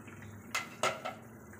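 Lid lifted off a cooking pot of potato curry, a few quick close metallic clinks and scrapes over a low background hum.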